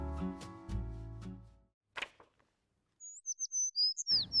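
Birds chirp by golden rice fields beside a café, a string of quick high tweets near the end after a few soft tonal notes and a quiet pause.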